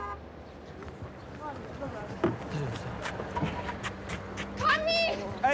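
A car horn toots near the end, a short rising honk over busy street noise with children's voices and footsteps around it.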